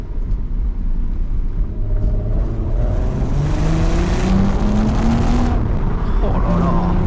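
An Audi TT MK1 3.2 V6 accelerating hard toward 6000 rpm, its loud, steady engine rumble rising in pitch across successive pulls, heard close and continuous with a voice talking over it.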